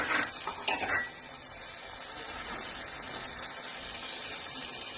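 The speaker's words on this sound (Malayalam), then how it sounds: "ഇത് പുളിവെള്ളം" Tamarind water poured into a sardine curry: a short splash and gush of liquid at the start, then a steady low wash of sound trailing on alone.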